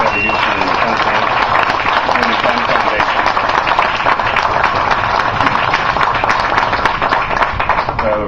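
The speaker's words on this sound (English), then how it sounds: "a big round of applause for Feather Houston and the Penn Foundation" An audience at a Philadelphia waterfront grant announcement gives a round of applause. The clapping is loud, close and continuous, with a crisp, slightly crackling texture that holds steady throughout.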